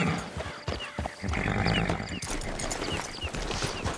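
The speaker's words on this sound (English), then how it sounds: "It's your horse." In Red Dead Redemption Online, a horse gives a snorting whinny among clip-clopping hooves and outdoor game ambience, moderately quiet, with occasional rustles and thuds.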